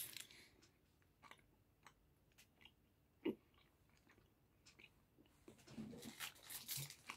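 Close, quiet chewing and biting on a hard, sticky Japanese snack, with scattered crunches and mouth clicks that grow busier and louder toward the end.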